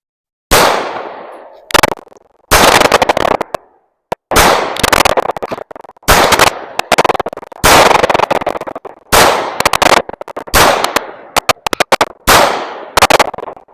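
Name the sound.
gunfire at a shooting range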